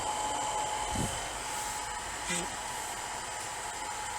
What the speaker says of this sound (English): Yeah, front motor's working fine.